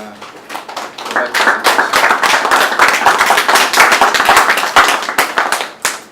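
A room of people clapping at a consultative meeting after a presentation, loud and close, with sharp individual claps that build quickly and then thin out toward the end.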